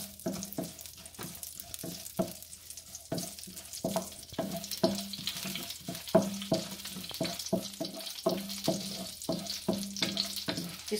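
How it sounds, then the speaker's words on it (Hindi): Dry red chillies fry in hot oil with a continuous sizzle, punctuated by a steady series of sharp scraping and clinking knocks from a utensil in the pan, some coming in quick clusters. "ये ऑयल गरम हो गए तो हम इसमें ये मिर्ची डाल के ड्राई रेड चिली"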